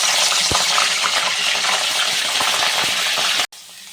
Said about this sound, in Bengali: আর গ্যাসের ফ্লেমটাকে মিডিয়ামে রেখে 3-4 মিনিট ধরে আমি ব্রোকলিটাকে হালকা করে ভেজে নেব।